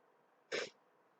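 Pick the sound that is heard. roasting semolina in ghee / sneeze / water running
sneeze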